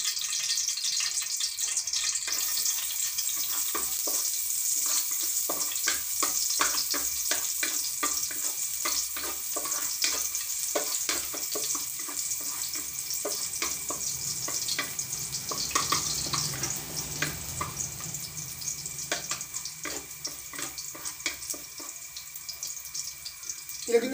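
Garlic frying in cooking oil, a close, continuous crackling sizzle with dense spitting pops and occasional stirring clatter, steady throughout and mostly without talk.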